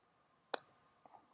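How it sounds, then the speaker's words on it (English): One sharp, quiet click of a computer mouse, followed a moment later by a softer second click, set against near silence. "I can do that from here just by clicking"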